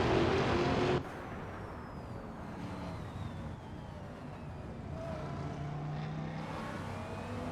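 GT3 race cars in a racing video game, a steady engine drone with whining gear tones as cars pass, loud at the start then settling into a continuous hum.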